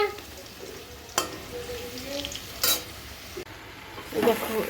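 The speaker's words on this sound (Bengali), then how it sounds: "লাল লাল করে আলুগুলো ভেজে নিচ্ছি" Potatoes fry in a pan with a steady sizzle, punctuated by several sharp scrapes and clinks of a spatula stirring, fairly close, with no clear speech.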